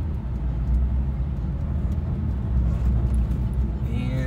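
2011 Porsche Carrera S driving down the road, a steady low engine and road rumble heard from inside the car, fairly loud and constant throughout.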